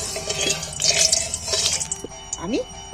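Cauliflower pieces dropped into hot mustard oil set off a steady, close hiss and crackle of frying, with a few small pops, under a speaking voice.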